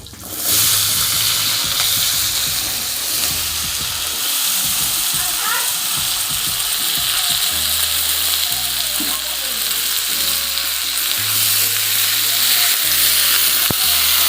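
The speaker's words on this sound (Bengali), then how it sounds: "সবজিগুলো তেলে নেড়ে চেড়ে নেব।" Chopped vegetables stir-fried in hot oil after frying chilies, Bengali home cooking: a loud, steady sizzle with stirring and scraping throughout, close up.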